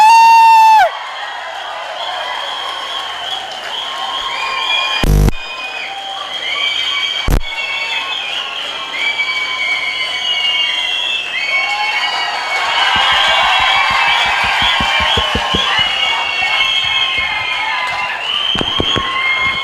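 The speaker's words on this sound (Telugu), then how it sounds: "ఒకసారి గట్టిగా క్లాప్స్ ఇస్తారా?" An indoor audience at a health awareness program claps and cheers loudly for nearly twenty seconds, dense sustained applause with whoops and shouts, a couple of sharp thumps early on.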